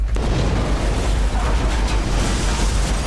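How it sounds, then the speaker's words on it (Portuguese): A loud, sustained roar of rushing air and rumble fills the whole clip, broadband and turbulent, like a violent blast and decompression inside an aircraft cabin, as it explodes near 3,600 metres altitude. "A cabine explodiu."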